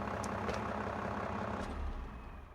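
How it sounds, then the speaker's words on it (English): A small tractor's engine in Farming Simulator hums in a steady, low idling drone, continuous and moderately loud with no voices, easing off slightly toward the end. "This is only a little tractor though"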